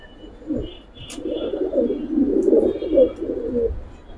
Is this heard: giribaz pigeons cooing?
yes